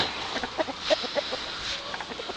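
A few adult chickens give short, scattered clucks nearby, soft and intermittent against quiet outdoor background noise.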